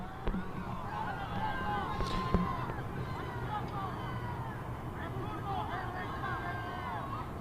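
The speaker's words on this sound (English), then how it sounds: "Crowd is sort of jeering" Football crowd at a UPSL fall championship final jeering as a player steps up to a penalty, a steady distant murmur of massed voices with rising calls and whistles throughout, continuous and moderately loud.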